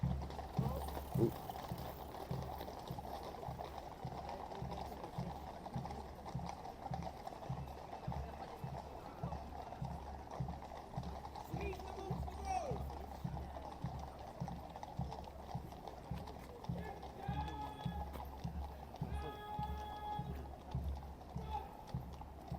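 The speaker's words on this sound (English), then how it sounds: "you saw the horses slightly freak out, but the guards got them under control" Guards' horses clip-clop along a road near St. James's Palace in a steady stream of hoofbeats under crowd noise, with pipes faintly joining later and people talking quietly.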